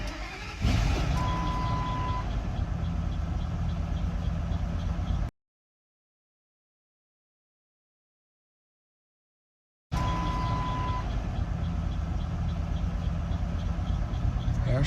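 A 1988 Chevy 1500 pickup engine cranks and starts, then runs at a rough, loud idle with a faint steady tone in two bursts separated by a gap of silence.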